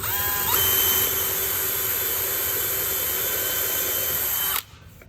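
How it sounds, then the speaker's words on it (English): A power drill bores into wood for a planter build, a loud, close, continuous high whine that shifts pitch as the bit bites in, then stops abruptly near the end. "Make sure you go straight in, straight out with your drill bit."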